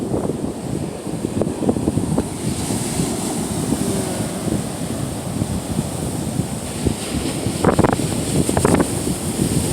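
Steady surf rolls onto a Gulf of Mexico beach on a very windy day, a continuous wash of breaking waves with gusty wind buffeting the microphone throughout.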